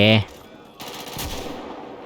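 Gunfire in a GTA V zombie mod video game: a brief loud burst at the start gives way to a dense spray of rapid game shots and impacts that carries on steadily to the end.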